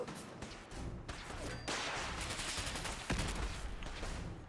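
Gunfire in Fallout 4 rattles off in quick bursts of sharp, loud shots that overlap into a dense fusillade, with heavier reports standing out and no talk over them.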